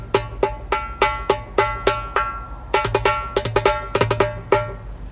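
Darbuka struck with quick, snappy strokes in a fast rhythmic pattern, crisp sharp hits with short ringing tails, close and alone.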